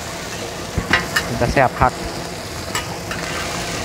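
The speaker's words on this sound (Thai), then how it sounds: "หอยแมงภู่ทอด" Green mussels frying in hot oil at a night market in Surin, sizzling steadily while being stirred and flipped, with a few scraping clanks and a voice speaking briefly over the cooking.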